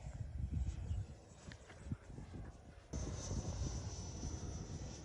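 An Avanti S V2 model jet flying at half throttle gives a thin, continuous whining hiss that swells to a brighter, steadier whine partway through, with faint rustles and taps nearby.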